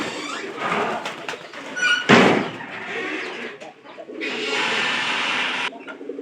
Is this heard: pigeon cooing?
yes